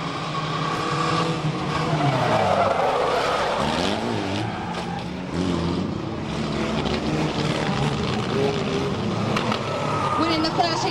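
Race cars circle the track at Fleet Raceway, their engines droning continuously with rising and falling pitch as they pass and round a bend, loud and sustained, with a commentator talking over the noise.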